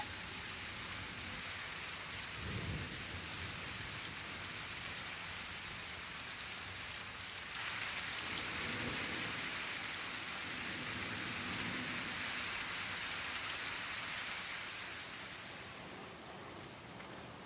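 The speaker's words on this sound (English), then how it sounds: "What a downpour." A heavy, continuous downpour roars evenly for the whole stretch, dense and hissing, with a few low thumps underneath and a slight easing near the end.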